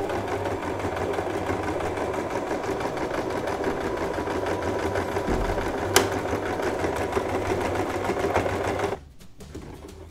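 A sewing machine runs a straight seam half a centimetre from the edge of a baby changing mat, its steady motor hum carrying on without a break for most of the stretch before stopping abruptly near the end.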